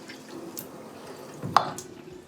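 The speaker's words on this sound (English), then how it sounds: "focus as much energy on rinsing your face as you did on washing it just a second ago" Water splashes softly while someone rinses their face at a sink during a morning skincare routine. Faint drips and a brief splash stand out against a quiet background.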